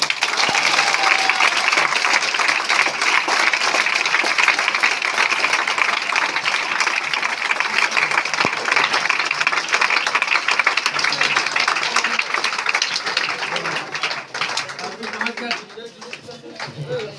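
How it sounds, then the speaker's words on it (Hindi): A meeting audience breaks into loud, sustained applause, dense clapping holding steady for the whole stretch before easing slightly near the end. "जोरदार ताली होना चाहिए।"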